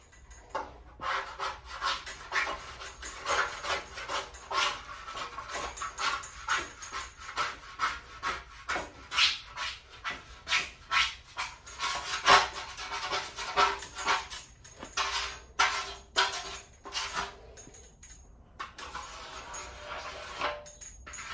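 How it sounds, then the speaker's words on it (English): Scraping softened paint remover and paint off the fender of a 1972 VW Super Beetle, with a steady series of short rasping strokes, close and fairly quiet, repeating in rhythm without talk. "So I'm going to scrape off what comes off and then put some more paint remover on there."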